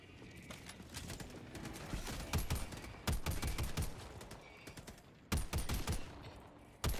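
Rapid automatic weapon fire in Helldivers 2, loud and close, rattling in sustained bursts until the magazine runs dry, with short breaks before the firing resumes.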